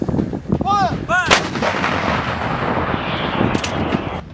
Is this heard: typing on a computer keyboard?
no